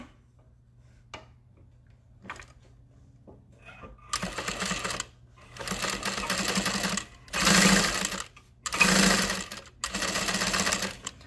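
A sewing machine stitches a tote bag in several bursts of fast rhythmic whirring and clicking, each run lasting about a second, separated by short pauses, with faint handling sounds before the first run.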